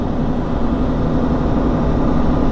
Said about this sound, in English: as far as the tires go, I'll put a clip of the road noise